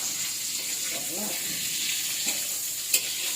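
Hotdogs frying in an electric pan give off a steady, soft sizzle throughout, with a faint voice murmuring briefly partway through and a small pop near the end.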